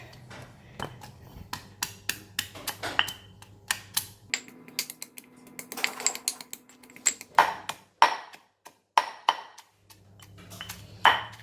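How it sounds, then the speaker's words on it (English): Garlic and turmeric pounded together in a mortar for a fried whiting fish marinade, heard as a string of sharp, irregular knocks and taps, close and fairly quiet, with brief pauses between bursts. "I'm going to pound all the garlic and the turmeric together"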